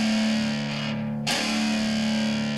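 Distorted electric guitar strings, palm-muted and left to ring: a loud, steady sustained hum with a brief dip near the middle before it swells back.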